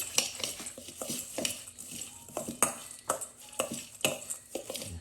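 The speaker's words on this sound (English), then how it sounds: "And then we give it a good stir." Soaked seed mixed with a little kelp meal gets stirred in a bowl, giving a quick series of close scraping clinks and taps with a spoon for several seconds, no talking.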